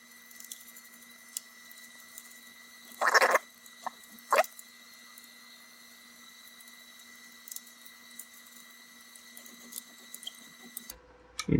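Small plastic-on-metal click as a bracket snaps into the channel of a 3D printer frame, two short sharp snaps in quick succession over a quiet steady hum, close and faint.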